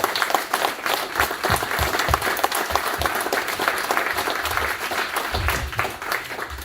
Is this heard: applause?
yes